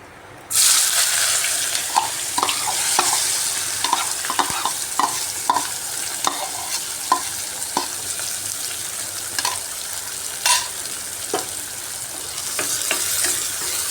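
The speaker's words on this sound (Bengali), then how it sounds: "পেঁয়াজটা দিয়ে একটু সময় ভেজে নিচ্ছি" Chopped onion frying in a pan for a jackfruit curry, a steady sizzle with irregular stirring scrapes and clinks scattered throughout, close and fairly loud, no voices.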